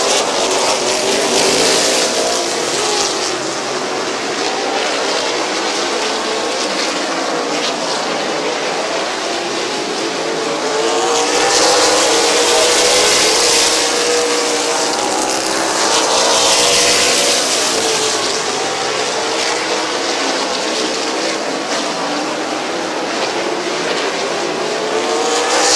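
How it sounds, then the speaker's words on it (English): Race cars on the oval at Midvale Speedway, with loud, continuous roaring engines that swell as the pack passes close by, then fade slightly and swell again. "Cody Jayberg around the outside to the race lead"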